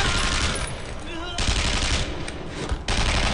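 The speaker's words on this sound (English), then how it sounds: "Shots at me!" Rapid machine-gun and rifle fire in the World War II shooter Brothers In Arms: Road to Hill 30, loud dense bursts with brief pauses between volleys, close and harsh.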